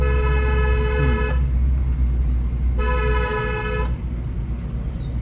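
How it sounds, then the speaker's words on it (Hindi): Car horn on a rough village road, two long steady blasts separated by a pause, loud and close over a low engine rumble. "लॉन्ग हॉर्न प्रेस करो।"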